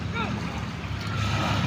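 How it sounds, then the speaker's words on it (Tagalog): Ocean waves washing in at a Manila beach, a steady broadband rush with wind buffeting the microphone and a low rumble, while people talk nearby. "Lumalakas ang alon, no?"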